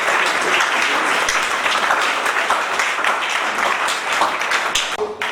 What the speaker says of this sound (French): ces félicitations doivent être accompagnées par vos applaudissements